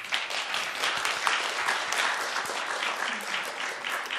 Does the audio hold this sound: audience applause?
yes